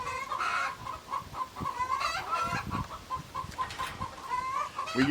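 Hens cluck and cackle in a henhouse, close and fairly loud, with overlapping bursts of clucks and rising cackles and no talk.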